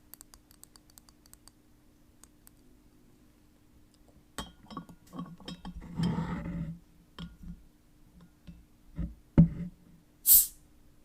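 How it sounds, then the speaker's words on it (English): A beer bottle of Monterey Ale is pried open with a metal bottle opener, close up in a quiet room: soft clicks and clinks of metal on glass, then a short sharp hiss of escaping gas near the end. "My trusty London bottle opener."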